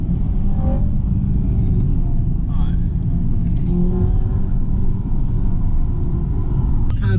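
A Honda Civic Type R FN2 fitted with an induction kit revs hard, a loud continuous engine roar with rising VTEC pitch sweeps, heard close up while people shout and talk excitedly over it.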